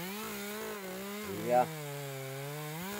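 A 25 cc, 1.1 kW Echo CS2511 chainsaw engine runs at high revs near 13,200 rpm, a steady close buzzing whine with one brief surge midway, while a voice briefly speaks.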